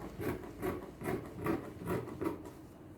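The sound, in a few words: cutting out a sewing pattern piece from fabric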